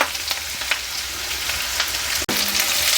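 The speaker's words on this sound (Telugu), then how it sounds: "మంచిగా వేగుతుంది ఇంకా కొద్ది వేగాల మనకి గోల్డ్ కలర్ రావాలి" Green chillies with a pinch of salt sizzle steadily in hot oil, a dense continuous frying hiss with occasional pops and a brief stir or tap near the end, no one talking.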